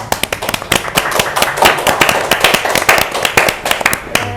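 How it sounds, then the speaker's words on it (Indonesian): An audience applauds to welcome the new student council president and vice president at a school event, loud dense clapping from many hands, close and sustained throughout. "Beri tepuk tangan yang meriah."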